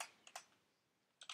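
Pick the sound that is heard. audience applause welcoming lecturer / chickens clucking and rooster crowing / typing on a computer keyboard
typing on a computer keyboard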